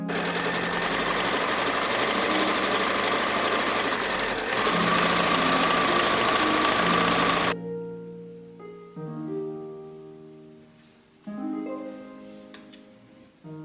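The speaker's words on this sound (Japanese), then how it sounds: "今度は中表で縫おう。" A sewing machine stitches fabric in a fast, continuous mechanical whir for about seven seconds, then falls quiet while soft music plays on alone.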